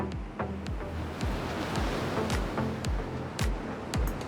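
Ocean surf rolling onto the coral-fringed Okinawa coast in the Ryukyu Islands, a steady broadband wash with soft wind, no voices, with repeated low rumbling pulses underneath and occasional sharper splash bursts.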